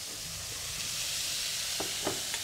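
Marinated pork chops sizzle in a hot pan with a steady, even hiss, close and moderately quiet, broken by a few soft pops and faint utensil taps, with no talking.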